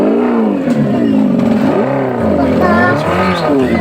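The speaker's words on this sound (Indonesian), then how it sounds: "Nah, ini suaranya langsung dari knalpot sini ya." A loud, raspy engine from a modified Yamaha NMAX scooter exhaust revs up and down close by, its pitch rising and falling in bursts of throttle.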